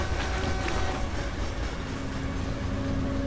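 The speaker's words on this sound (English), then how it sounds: "Alright, that was a train." A train rumbles past in a creepy horror video game, a steady, loud rolling roar with rattling wagon clatter lasting the whole stretch, with no talk over it.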